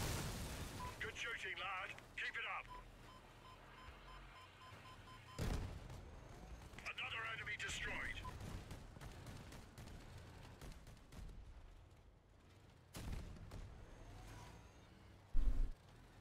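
A few sudden booming blasts of a vehicle exploding in the video game Crossout burst out over a busy game soundscape, with people talking throughout.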